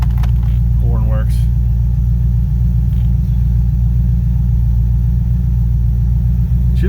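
A C4 Corvette project car's engine idles steadily with a constant low rumble throughout, while people talk close by over the running motor.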